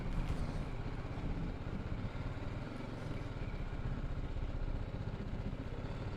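A BMW G310GS motorcycle rides through narrow stone-paved town streets, its single-cylinder engine droning steadily and close with a continuous low rumble and road noise throughout.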